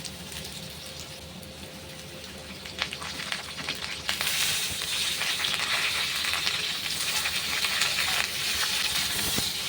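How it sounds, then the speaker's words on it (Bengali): Cut drumstick pieces are stir-fried with already fried potatoes in a pan, a continuous close sizzle that grows louder and denser after a few seconds, with occasional scrapes and clinks of stirring. "এবার এই ডাঁটাগুলো আমি আরও কিছুক্ষণ নাড়াচাড়া করে একটু ভেজে নেব"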